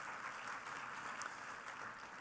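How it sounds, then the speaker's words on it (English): An audience at a keynote talk gives a round of applause, a soft, steady patter of many hands heard at a distance and fairly faint. "Give Carla a round of applause, yeah?"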